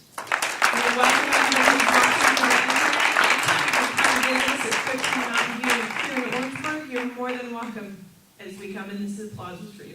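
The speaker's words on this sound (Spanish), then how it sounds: "y este aplauso es para ustedes." Sustained applause from a congregation fills the room during a Sunday church service, with a voice speaking Spanish over it before the clapping fades near the end.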